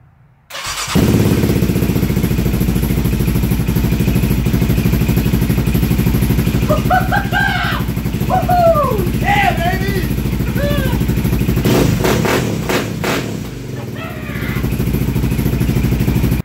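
A long-dead vehicle that has just been revived starts abruptly after a battery charge, then settles into a loud, steady close-up engine run. An excited voice talks over the engine partway through.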